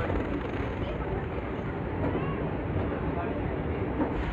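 The Jammu Ahmedabad Express departing Jalandhar station, heard from on board as a steady low rumble and rattle of rolling carriages that continues evenly throughout, with faint voices in the background.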